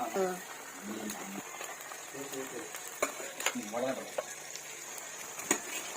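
Country chicken pieces stirred into a pot of softened onions sizzle and crackle with occasional utensil knocks, while a person talks over the cooking.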